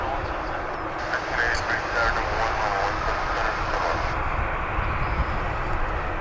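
Airliners at DFW airport, including a 747 and a Dreamliner, give off a steady, broad jet roar at a distance that holds level throughout, with faint voices in the background.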